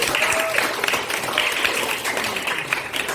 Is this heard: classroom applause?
yes